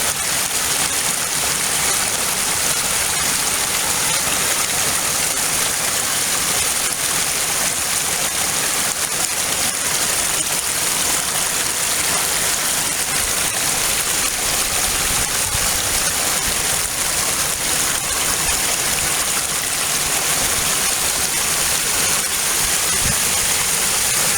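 Rushing water roars continuously and loudly, a thick, unbroken churn like fast rapids close by, with no voices.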